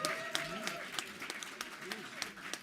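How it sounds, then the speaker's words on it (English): A convention crowd at the National Action Network gathering gives a round of applause for Don Peebles, faint scattered claps that sit under a man's continuing speech. "Another big round of applause for Don Peebles"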